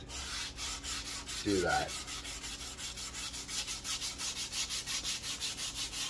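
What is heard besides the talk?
hand sanding wood bass body with 220 grit sandpaper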